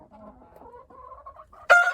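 Chickens clucking softly in a short run of calls, then a sudden loud squawk near the end.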